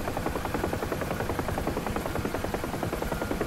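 A helicopter in the DCS World flight simulator runs continuously, its turbine engine whine layered over a rapid, steady rotor chop with a vibrating, rumbling texture, loud and without speech.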